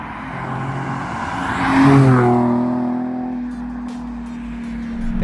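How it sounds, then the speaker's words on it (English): A Nissan 370Z NISMO with stock catalytic converters revs hard, its exhaust rising to a loud, strained peak and then dropping back into a steady, droning idle heard close up, with no talk. "It sounds pretty good. It sounds like a proper sports car."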